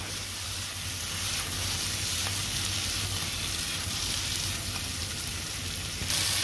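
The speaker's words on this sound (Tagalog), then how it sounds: "Tapos, sunod na natin ang kamatis. Haluin lang natin guys." Tomatoes sauté in a hot pan with a dense, continuous sizzle and faint scraping of a stirring spoon, loud and close, with no voices.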